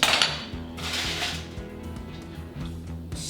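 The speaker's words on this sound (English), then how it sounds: "We'll get our sheet pan here." A metal sheet pan is picked up and handled in a kitchen, giving a loud initial clatter followed by softer scraping and a low resonant metallic ringing.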